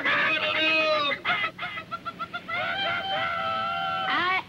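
Chickens and a rooster cluck and squawk loudly and close by, a dense run of overlapping calls with brief pauses and no talk.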